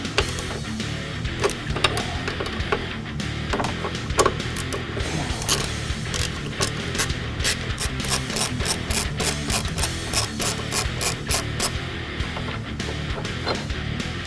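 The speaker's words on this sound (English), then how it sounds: "Before we can release this though, we have to release these two small bolts so the whole bracket will come down." Rapid ratchet clicking from a socket wrench loosening two small bolts on a cradle bracket under a 2015-2022 Ford Mustang, with repeated bursts of sharp ticks over a steady low workshop hum.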